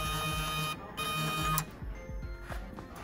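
A CNC plasma cutting table shifts its torch into position over the slats, giving a steady mechanical whir and hum from the gantry motors that stops and restarts, with a few soft clicks toward the end.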